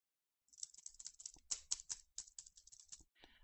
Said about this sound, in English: if you're hitting buttons and clicking,